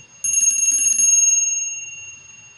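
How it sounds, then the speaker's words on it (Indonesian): A small bell rings in a rapid trill for about a second, then its bright tone lingers and fades, with faint rustling underneath. "dua kartu ini saya akan memulai dengan ditandai lonceng berbunyi"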